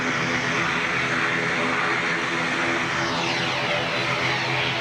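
An ATR 70 or 72 turboprop airliner roars steadily and loudly nearby, with a broad engine drone and propeller hum on a wet runway, a sweeping whine rising in the final seconds.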